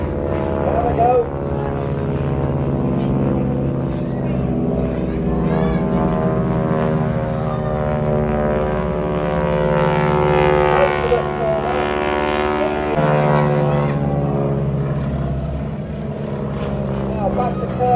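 Display aircraft flying an opposition manoeuvre at the Blackpool air show, their engines making a loud, sustained drone that swells and shifts pitch as they pass, heard under continuous commentary.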